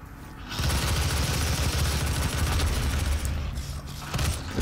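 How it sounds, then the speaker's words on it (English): Shotgun and weapon fire in the Doom game, a loud, dense, continuous barrage of blasts and mechanical noise filling several seconds without speech. "Take the shotgun"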